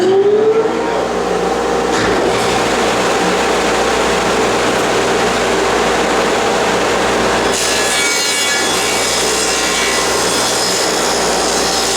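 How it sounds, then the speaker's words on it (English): A dust collector runs steadily and loudly in a woodworking shop, a dense continuous roar with a brief startup at the beginning and a slight shift in tone partway through, with no talking. "Dust collector first."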